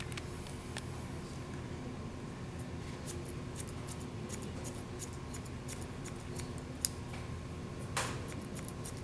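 Scissors snipping through curly hair during a salon texturizing cut, a run of quick, light, close metallic snips scattered irregularly over a steady background hum, with one sharper cut standing out near the end.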